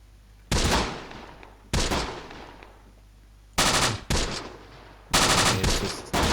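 Machine-gun fire in the WWII strategy game Close Combat: The Bloody First, coming as five loud, sharp rattling bursts with brief pauses between them and no talking.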